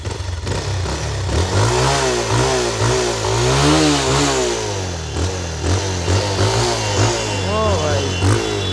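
Close, loud revving from a Bajaj Pulsar 220F BS6 motorcycle engine, with repeated throttle blips that swing the pitch up and down over a steady running note.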